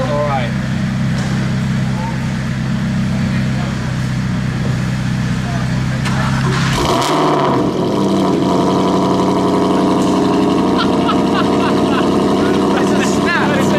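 An Aston Martin GT8 runs with a loud, steady low exhaust drone that shifts abruptly midway into a rougher, higher engine note, continuous and close, with a person talking over it.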